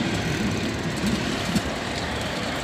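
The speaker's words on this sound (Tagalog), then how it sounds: "Yan yung pinakabilis na tren nila dito" A steady loud rushing roar of a KTX high-speed train speeding past in South Korea, broad and continuous with no voices.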